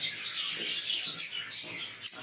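Cockatiel chicks chirp in rapid, repeated high-pitched calls, close and fairly loud, forming a continuous overlapping chatter.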